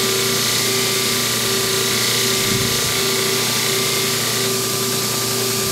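A bench grinder or polishing wheel hums loudly and continuously as a steel bowl gouge is ground and polished to a mirror finish, with a steady motor whine and brief scraping contact partway through.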